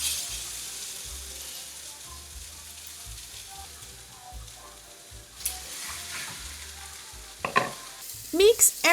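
Onions, potatoes and beef frying in a pan while being stirred, a soft steady sizzle with scraping spoon strokes, quiet throughout and ending in a few louder clatters.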